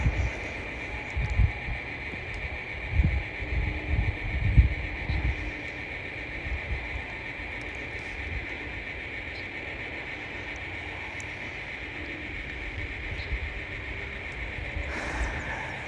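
A model railroad train is moved onto a passing siding, with low rumbling and clunks early on under a steady high electrical whine, then fading to a quieter continuous hum.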